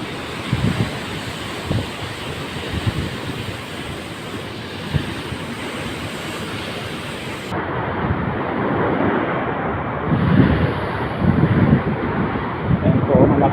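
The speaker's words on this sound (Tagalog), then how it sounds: "malakas po ang alon dito" Strong surf roars continuously during a typhoon at Banton, Romblon, with heavy wind buffeting the microphone, waves surging louder in bursts toward the end.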